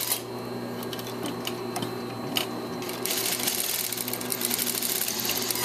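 A sewing machine stitching a welt pocket, humming with a fast, steady stitching rhythm that grows louder and denser partway through, close up with no talking.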